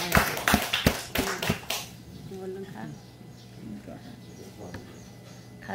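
Several people clap briefly at an indoor group gathering, a quick burst of sharp, uneven claps that dies out after a couple of seconds, followed by quieter room sounds and faint talk.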